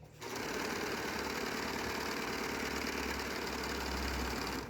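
Sunspecial SS320 overlock serger stitching and trimming fabric, a steady close high-speed mechanical whir with fine rapid chatter running continuously without pause, ending in a small click.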